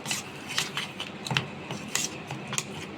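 A spoon scrapes and stirs crushed Oreo cake mixture in a bowl or kettle, with steady rasping, clinking strokes repeating closely and loudly with no talking.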